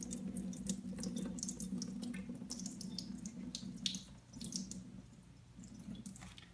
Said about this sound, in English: just slowly let all the starchy water come out